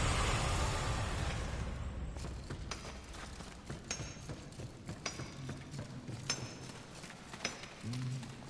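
Hooves clip-clop in a loose, uneven rhythm over a low rumbling ambience, with a few sharper knocks and clicks scattered throughout.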